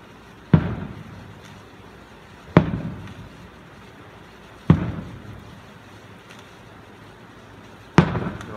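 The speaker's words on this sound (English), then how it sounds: "A lot of lightning and a lot of fireworks." Distant fireworks going off over houses, four separate booming bursts spaced a couple of seconds apart, each with a short rumbling tail, and no talking.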